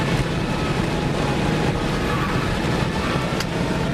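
Hot hatch cars at speed on a Nürburgring lap, a constant loud roar of engine, tire and wind noise at steady level with no pauses and no talking.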